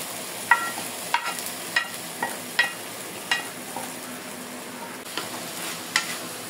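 Leafy greens fry in a pan with dried chillies and onions, a steady sizzle broken by a series of sharp scraping and stirring clicks at uneven intervals, close up with no talk.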